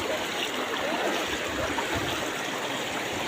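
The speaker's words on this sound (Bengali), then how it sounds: "পানির স্রোতের কি আওয়াজ," Floodwater rushing in a river current during a village flood: a continuous, dense roaring wash of moving water, steady and close.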